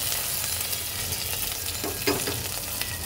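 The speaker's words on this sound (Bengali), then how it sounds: "পাঁচ ফোড়নটা দেওয়ার পর দিয়ে দেব রসুন কুচি, পেঁয়াজ কুচি আর হচ্ছে কাঁচা মরিচ।" Chopped garlic, onion and green chili fry in oil with panch phoron, giving a steady, close sizzle with a few brief stirring scrapes near the end and no talking.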